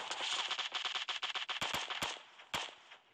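Rapid gunfire crackles in PUBG zombie mode, a fast burst of sharp shots followed by a few louder separate cracks, fairly close and without talk.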